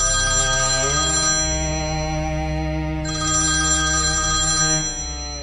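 A mobile phone ringtone rings loudly inside a movie theater, a steady melodic electronic tone with stacked harmonics that repeats in two phrases, briefly dipping around the middle and continuing alone without talk.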